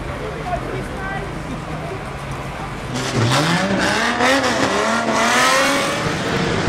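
Banger race cars at the start of a pre-1990 unlimited banger race, engines roaring louder and revving upward together, with a commentator speaking over the noise.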